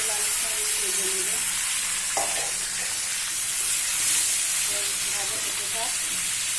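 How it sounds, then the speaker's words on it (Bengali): Pointed gourd and potato pieces frying in hot oil in a pan, a steady loud sizzle and hiss throughout with occasional stirring clinks. "কারণ পটল আলুটা আমি ভেজে নেব।"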